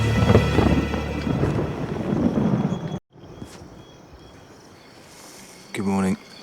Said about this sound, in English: it sounds like the rain is easing off